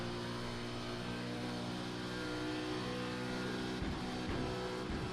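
Simulated V8 Supercar engine in iRacing at Bathurst held steady against the rev limiter, a loud continuous harmonic drone with a rapid stuttering cut-out pattern near the end.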